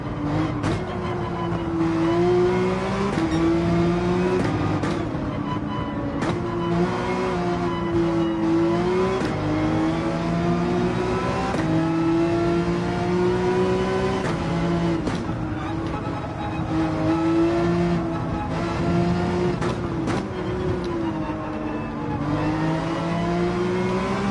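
Porsche 911 race car in Gran Turismo 7, its engine droning loud and close with repeated rising revs and brief lifts between gear changes, a continuous racing whine with no talk.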